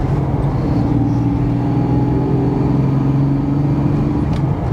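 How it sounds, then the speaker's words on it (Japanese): A Nissan Skyline 2000GT (Kenmeri) two-litre straight-six engine hums steadily and smoothly as it accelerates, heard from inside the cabin, with a constant drone and no voices. "2リッターの6発なんで結構いい音するんですよね実は"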